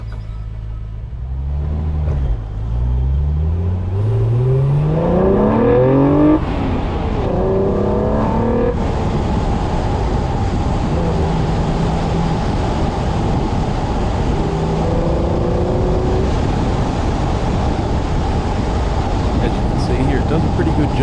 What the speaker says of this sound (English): The camera does a really good job of picking up the good old VQ engine sounds